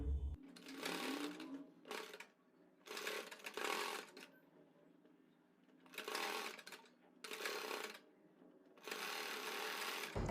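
A sewing machine runs close and steady in repeated bursts, with brief pauses between runs, as it stitches elastic onto a palazzo waistband.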